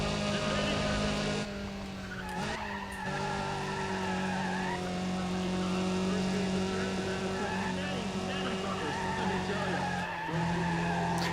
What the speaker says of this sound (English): all you can hear is probably the engine sounds.